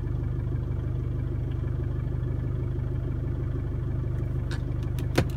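A 2015 Isuzu D-Max 4x4 engine runs at a steady low idle, a continuous close drone heard from inside the vehicle, with a few faint clicks near the end.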